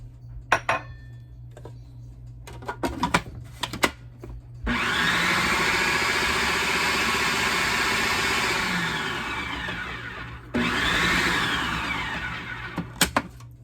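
A food processor whirs loudly, blending a comfrey poultice with flour in two long bursts, preceded by clicks and clatter as the lid and bowl are handled; no voices.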